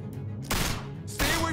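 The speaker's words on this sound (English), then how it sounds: "I hear gunfire." Two loud bursts of gunfire in The Walking Dead video game, each a dense broadband volley about half a second long, separated by a brief lull with low rumbling underneath.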